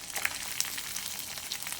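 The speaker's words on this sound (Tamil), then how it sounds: "கட்டி வச்ச வெங்காயத்தை போட்டுட்டு நல்லா வதக்கணும்" Onions sauté for sundakai vatha kuzhambu in a pan, a quiet, steady sizzle with faint crackles and small pops, heard alone and fairly soft.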